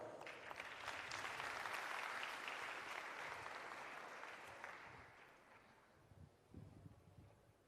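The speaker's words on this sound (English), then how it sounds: "A warm round of applause for" Audience applause at a farewell conference, a warm round of clapping from a large hall that swells early, then fades away and leaves a quiet room with a few small noises.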